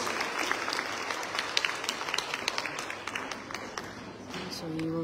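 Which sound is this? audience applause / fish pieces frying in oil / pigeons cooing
audience applause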